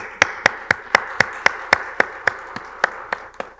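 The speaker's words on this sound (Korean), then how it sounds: "박수 한번 해줍시다." Clapping in a Korean early-morning church service on Children's Day: about fourteen sharp, evenly spaced claps in a steady rhythm, close and crisp, with no talking.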